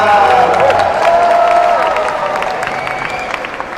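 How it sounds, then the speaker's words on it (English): An audience at a company launch event in Amsterdam claps and cheers for Patrick Kluivert, a loud crowd roar that gradually eases, with a few whoops and voices in the mix. "big applause for Mr. Patrick Kluivert"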